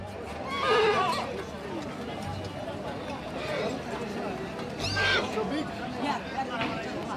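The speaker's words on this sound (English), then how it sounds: "Have you ever seen a horse as big as this?" Horses at a competitive horse event, with loud neighing and whinnying near the start and again around the middle, plus some hoof clip-clop and crowd chatter throughout.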